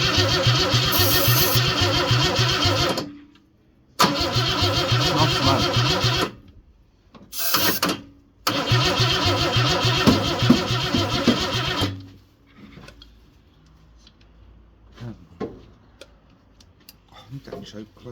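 A Ford Cortina Mk4 Ghia 2.3 V6 under restoration cranks and fires in loud, close bursts, stopping briefly between attempts, then cuts out, leaving quiet workshop noise and faint clatter.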